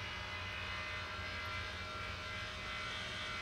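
A steady, loud roar of jet aircraft at Velana airport in the Maldives in Tower Simulator 3. The whine and rumble hold unbroken throughout, with no voices.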